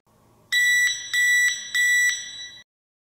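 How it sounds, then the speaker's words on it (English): Three long electronic beeps from a Kwikset Powerbolt 2 touchpad keyless entry deadbolt sound in a row, each about half a second, clear and close against a quiet background. "Press and hold for 5 seconds until you hear 3 long beeps."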